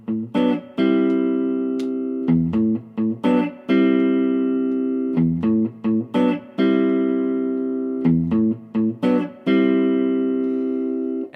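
A repeating piano riff played on guitar, sustained bright pitched notes with quick plucked attacks, looping several times at a steady tempo, loud and alone.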